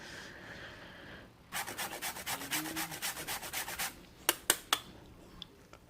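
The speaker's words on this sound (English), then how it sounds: "So I'll go ahead and grate some of them into the bowl." Frozen peeled ingredients are grated into a bowl for an Ayamase stew, making about a dozen quick, even rasping strokes close up, followed by a few light clicks and knocks.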